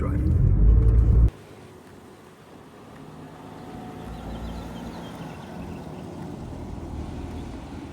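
A car driving through Palm Springs, heard from inside the cabin. A loud burst at the start drops into a low, steady road rumble that slowly swells.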